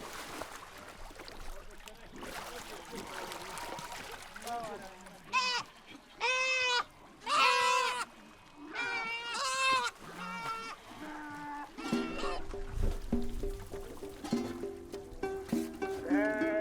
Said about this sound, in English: Chemicals are added to the water and the sheep swim through.